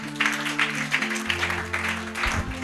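Church congregation clapping together, a steady rhythmic patter under sustained organ or keyboard tones and a voice.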